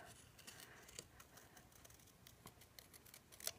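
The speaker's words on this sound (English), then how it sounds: "as you're cutting, you're turning your paper, not the scissors" Soft, quiet snipping and crisp rustling of scissors cutting paper, a steady run of small cuts up close with no talking.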